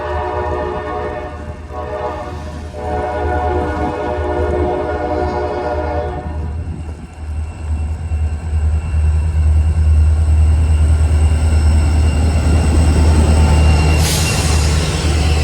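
A CSX freight train passes in blizzard conditions: a steady, loud roar of rolling cars and wheels runs throughout, with a sustained horn blast early on and a brief sharp squeal near the end.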